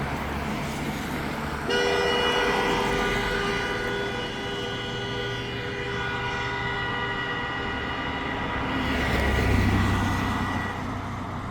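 A long, sustained vehicle horn blares for several seconds over traffic noise, steady and loud, then fades as another tone rises briefly.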